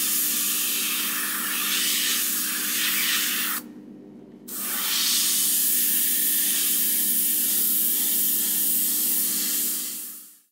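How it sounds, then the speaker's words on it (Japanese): A GAAHLERI Swallowtail airbrush with its trigger pulled slightly lets out a steady, loud hiss of air alone, stops abruptly for under a second, then hisses again before tapering off. "トリガーを少しだけ引くとエアーだけが出ます"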